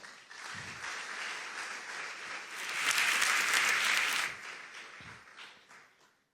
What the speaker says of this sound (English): I think you deserve a huge round of applause.